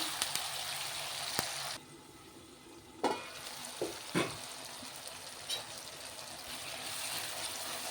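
Two tomatoes fry in a pan over already-fried onion for a cauliflower and potato curry, a steady close sizzle with a brief quieter dip and a few scraping stirs.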